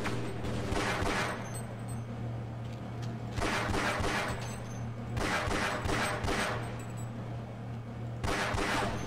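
Bursts of gunfire crackle in Half-Life Blue Shift, several rapid volleys spaced a couple of seconds apart over a constant low hum, fairly quiet and without voices.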